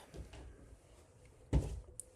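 Closet door pulled open in a quiet room, a faint soft scrape followed by a single sharper knock-like thud, then a small click, with near-silence around it.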